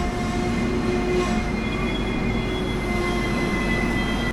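The Mysuru–Shirdi Express (16217) stands at a station while its locomotive reverses, giving a loud, steady rail drone and engine hum with faint wheel squeal, and no one speaking.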